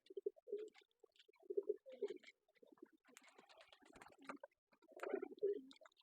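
Pigeons coo softly nearby in a pigeon house as they build a nest of straw, in repeated low, throaty phrases, with faint rustling and fluttering between calls.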